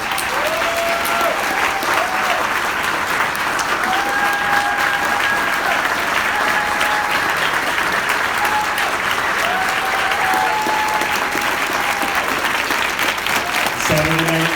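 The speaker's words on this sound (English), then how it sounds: "One more big round of applause for the cast, crew, and Kurt of Aida" After a high school spring musical performance of Aida, an audience claps loudly and continuously, with a few whistles cutting through the sustained applause.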